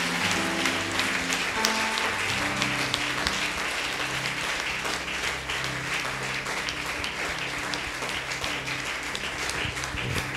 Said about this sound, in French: Est-ce que quelqu'un peut acclamer le Seigneur Jésus?